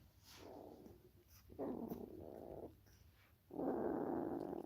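A puppy in a pile of puppies lets out three low groaning, growly vocalizations, each drawn out for about a second, close and fairly loud with short quiet gaps between.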